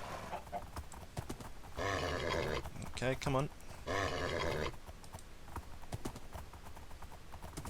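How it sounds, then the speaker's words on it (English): Horses in Minecraft give a run of rapid, close clip-clopping hoofbeats with a short whinny-like burst in the middle, while a player's voice speaks briefly over them. "Man, that's a lot of horses."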